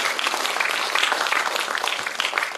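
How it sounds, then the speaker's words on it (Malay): Audience applause at a state-level ceremony for an anti-drug day, a steady dense clapping from a crowd that holds at even loudness throughout. "Saya kira kita beri satu tepukan kepada ahli yang berhormat kita"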